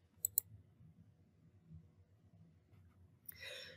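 Computer mouse clicking, two sharp quick clicks near the start over quiet room hum, followed by a brief rustle at the end.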